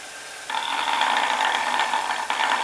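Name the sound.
wood lathe running with roughing gouge resting on spinning wood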